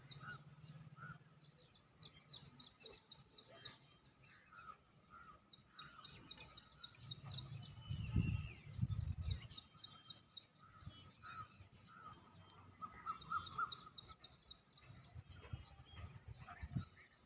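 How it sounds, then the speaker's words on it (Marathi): Sparrows chirp in quick repeated bursts across green village surroundings, faint and somewhat distant, with low rumbling background noise swelling midway. "चिमण्यांचा पण आवाज यायला लागलेला आहे"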